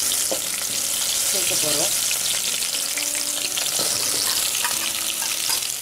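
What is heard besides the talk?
chopped onions sautéing in a pan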